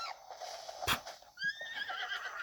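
A horse in The Legend of Zelda: Breath of the Wild gives a bright, rising whinny that wavers over about a second, preceded by a short thud, close and fairly quiet over a soft game ambience.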